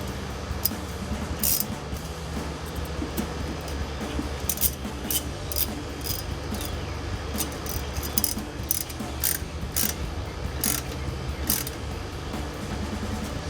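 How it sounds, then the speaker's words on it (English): Ratchet with an 8mm socket tightening a hose clamp during a K&N Series 63 AirCharger cold air intake install on a 2022-2024 Toyota Tundra, giving a steady run of quick clicks close by over a low background hum. "Let's tighten down the 48 clamp up here, and an 8mm"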